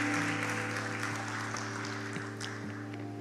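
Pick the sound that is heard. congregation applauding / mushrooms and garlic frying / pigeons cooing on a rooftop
congregation applauding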